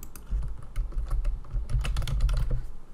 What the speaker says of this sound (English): You're going to type in settings in the search bar.